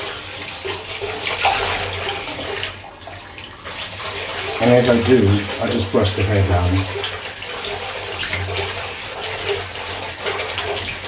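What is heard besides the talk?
tap running water over a doll's hair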